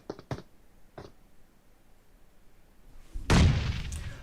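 A grenade goes off in a battle royale match, a heavy booming blast that rolls on for about a second after a few sharp distant gunshot-like pops earlier.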